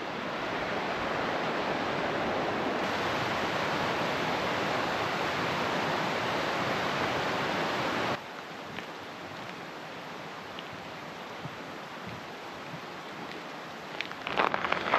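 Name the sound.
river flowing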